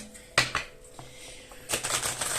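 Tarot cards are shuffled in short bursts of quick riffling and flicking, close and fairly quiet, with brief pauses between bursts.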